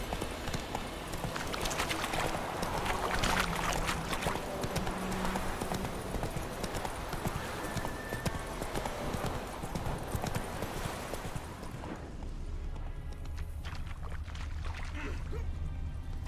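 A horse trots along in The Witcher 3, its hooves making a brisk, regular clip-clop up close over a low ambient game background that thins out near the end.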